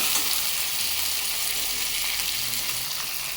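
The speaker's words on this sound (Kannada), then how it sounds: "ಟೊಮೊಟೊ ಸ್ವಲ್ಪ 1 ರಿಂದ 2 ನಿಮಿಷ ಚೆನ್ನಾಗಿ ಫ್ರೈ ಆಗಬೇಕದು." Chopped tomato fries in a pan for sambar. A loud, dense, unbroken hiss of sizzling oil sounds close up and holds steady from start to finish.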